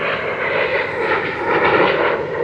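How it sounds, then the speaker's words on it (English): Fighter jets flying at the Dubai Airshow, a loud sustained roaring jet-engine rush that swells and pulses steadily, filling the air with no talk over it. "and as you can see, the fighter jets."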